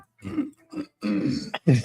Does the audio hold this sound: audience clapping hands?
no